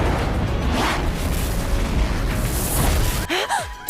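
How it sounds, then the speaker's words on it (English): A cartoon explosion as Max Steel and Miles Dread blow up over Copper Canyon: a loud, sustained booming roar that breaks off abruptly near the end. "naturally leads to both of them exploding all over Copper Canyon"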